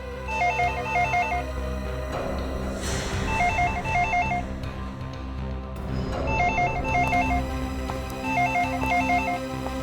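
A telephone bell rings in repeated bursts of trilling tones, three or four rings with short gaps, loud over a steady low hum in the background.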